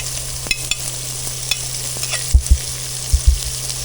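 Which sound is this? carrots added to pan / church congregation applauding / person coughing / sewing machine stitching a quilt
carrots added to pan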